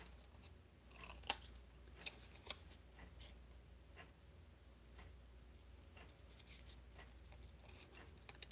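Scissors snip through a paper card in a quiet room, with a few sharp cuts standing out among softer, faint rustling and clipping sounds.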